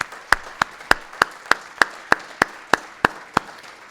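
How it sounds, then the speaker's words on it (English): Hands clap at a veterans' symposium in an evenly spaced, steady beat of about three claps per second, sharp and distinct over faint room noise. "So can we all give Garrett one more round of applause"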